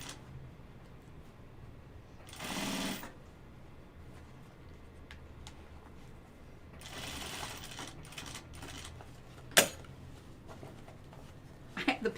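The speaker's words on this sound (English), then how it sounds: "I'm actually really liking sewing with the canvas." A sewing machine stitches canvas fabric for a bucket-style pocket in two short, close whirring bursts, with quiet clicks and handling noises between them.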